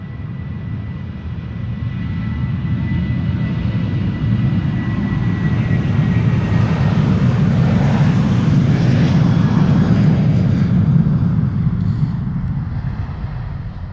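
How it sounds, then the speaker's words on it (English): A KLM Boeing 737-800, a 24-year-old jet bound for Stockholm, departs Schiphol with a loud, steady engine roar that swells and holds throughout, with no voices. "This is KLM flight 1219 going to Stockholm, a 737-800, the PHB XL, 24 years old"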